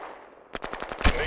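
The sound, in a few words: gunfire in Shadow Empire video game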